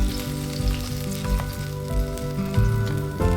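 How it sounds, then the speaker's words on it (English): Prima Taste vongole pasta sauce hitting a hot pan with clams, a strong close sizzle with bubbling and a few utensil knocks, steady throughout and no speech. "Add Prima Taste vongole pasta complete sauce."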